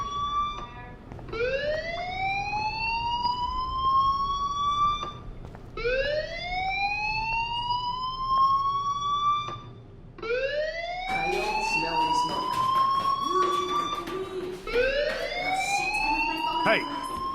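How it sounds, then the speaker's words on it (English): A fire alarm wails in the video game Life Is Strange, repeated rising electronic sweeps cycling every few seconds, loud and continuous, with more overlapping tones toward the end. "Hey, do you hear that fire alarm?"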